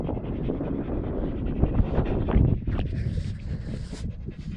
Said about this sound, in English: Got a lot of wind right here on this corner.